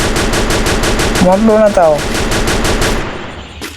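Rapid bursts of M60 machine gun fire in a video game shooter, a dense steady rattle of shots running through most of the stretch before fading out near the end, with a voice talking over it.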